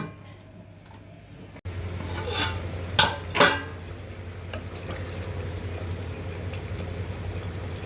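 Meat curry for biryani cooks in a pot and is stirred, giving steady simmering and scraping under a low hum, with two louder clanks of a spoon against the pot near the middle.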